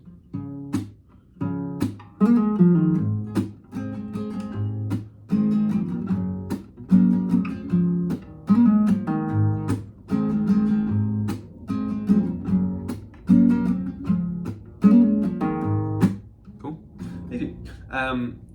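Plucked acoustic guitar notes in a steady, lilting pattern with quick hammer-ons and pull-offs between picked ones, played close and clear.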